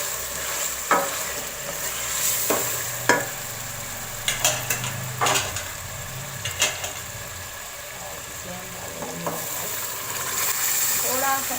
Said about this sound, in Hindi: और दाल डाल देंगे।